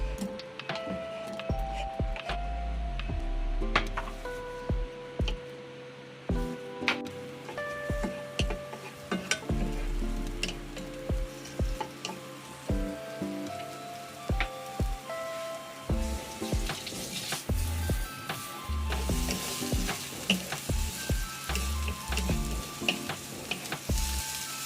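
White onion frying in olive oil, a loud continuous sizzle broken by repeated scraping and stirring knocks of a utensil against the pan.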